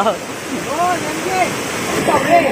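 A swollen river rushes in the rain in a broad, steady roar, close and loud. Voices call out over the water during fishing.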